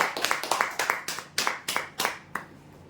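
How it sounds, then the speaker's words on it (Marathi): A small group clapping for a winner at a prize draw, about ten sharp, evenly paced claps that come in an uneven rhythm and stop before the end, close and fairly loud. "जोरदार टाळ्या होण्यासाठी."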